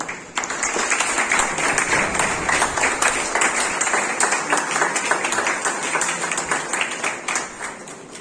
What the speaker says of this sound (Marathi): साहेबांसाठी आपण जोरदार टाळ्या वाजवल्या पाहिजे.